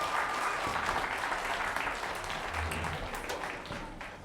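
Audience applause for a band at a band telethon, a full, continuous round of clapping from a sizable crowd that fades slightly toward the end.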